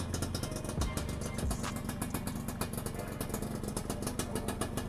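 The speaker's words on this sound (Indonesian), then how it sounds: "Ini suaranya dari motornya." Yamaha 125ZR motorcycle running just after a kick start: a steady, rapid, clattering engine beat, close and continuous, with no talking.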